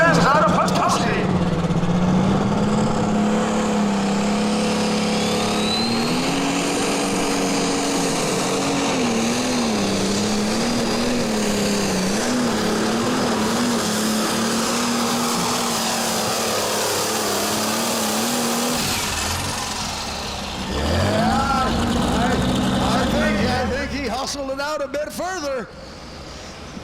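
A pulling tractor at the BSTP Carroll County Fair pull roars in a long, loud, sustained engine drone that climbs and holds pitch, then drops away near the end, with an announcer's voice running over it.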